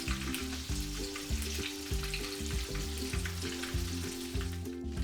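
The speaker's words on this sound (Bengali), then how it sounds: "এইগুলো প্রায় আমি 8 মিনিটের মতন ভাজলাম।" Potato and shrimp snack frying in a pan of oil, a steady close crackling sizzle throughout with faint stirring, over a background of sustained low tonal music; no one speaks.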